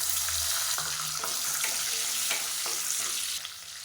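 Small shallots sizzle and crackle in hot oil in a pan for wheat rava sambar rice, a steady close frying hiss with a few stirring clinks, no talk.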